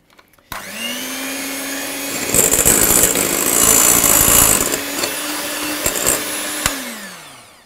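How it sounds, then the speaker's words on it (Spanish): Electric hand mixer beating an egg into cream for puff-pastry apple tarts, switching on with a steady whine, turning louder and rougher mid-way as the beaters work the mixture, then easing back before stopping, close and with no talk. "Ahora ponemos el huevo y a batir de nuevo."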